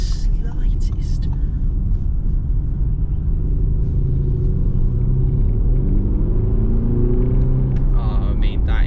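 A 2022 Audi SQ5 engine pulls hard under acceleration, a deep rumble that rises steadily in pitch from inside the cabin, with a voice murmuring over it near the end.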